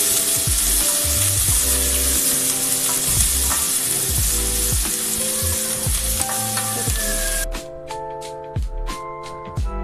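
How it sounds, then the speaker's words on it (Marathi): Chopped onion frying in a pan for spring onion sabzi, a loud constant sizzle with repeated scraping stirs, the hiss dropping away near the end to leave sparse crackles and spoon knocks. "बघा, व्यवस्थित आपण फ्राय करून घेत आहोत।"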